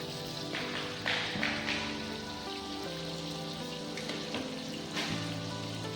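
Steady sizzling of sliced onions frying in hot oil for chicken biryani, a continuous crackle with a low hum underneath and occasional louder pops.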